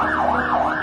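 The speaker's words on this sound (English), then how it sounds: "A night of horror in Beirut, with sirens blaring into the next morning." An emergency siren wails at night in Beirut after a massive explosion, loud and close, its pitch sweeping up and down in quick repeated cycles.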